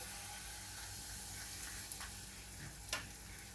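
Pizza batter is poured into a well-heated oiled fry pan and sizzles quietly and steadily, with a couple of brief clicks or taps near the end. No one speaks.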